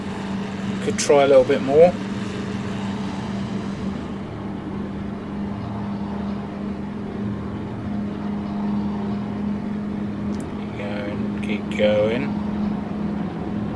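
Republic P-47D Thunderbolt radial engine at half throttle in a flight simulator, a steady low droning hum held evenly throughout, with someone talking briefly over it near the start and again near the end.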